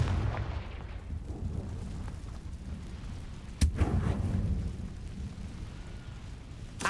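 A Confringo blasting spell explodes in the Hogwarts Legacy video game, one sharp crack in the middle over a low, rumbling ambient bed, with a smaller burst right at the end.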